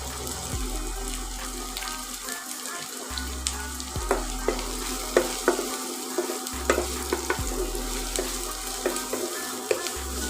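Ginger, garlic and green chilies frying in hot oil in a pan, a steady close sizzle broken by repeated scraping stirs of a spoon against the pan, with no voices.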